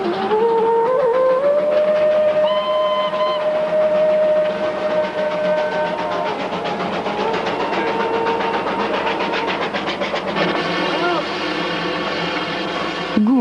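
Steam train on the Darjeeling Himalayan Railway climbing toward Ghum, its whistle tones and steady chuffing engine running loud and continuous, with people talking alongside.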